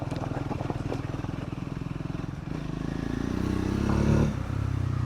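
A Triumph Scrambler 400X motorcycle engine pulls in 4th gear with a steady, pulsing drone that swells slightly as it accelerates, heard close from the rider's position.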